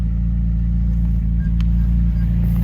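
A McLaren sports car's engine hums steadily and loudly in a low, even drone during the ride, with no clear revving peaks.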